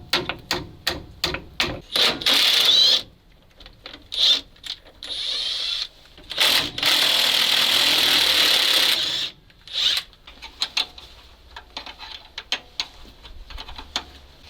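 Bolts being undone on an old Soviet MAZ crane: bursts of sharp metallic ratcheting and clicking, with two longer steady whirring runs like a power tool spinning fasteners loose, close and fairly loud, no talk.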